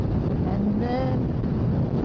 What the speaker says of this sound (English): oh, this wind. I don't like this wind.